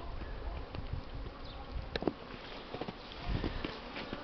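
Honeybees buzz around their hives on a sunny early-season cleansing flight in Polesie, a steady close insect hum with scattered louder passes of individual bees.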